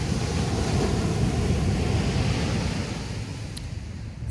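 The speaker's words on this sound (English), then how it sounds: "So I'm at the beach again because this is my happy place" Ocean waves roll onto a beach in a steady, loud wash of surf with some wind rumble on the microphone, and no voices are heard.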